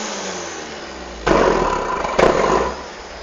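Chevrolet Corsa engine starting, with two sharp bursts of cranking and catching after a quiet lull, each rough, loud and close.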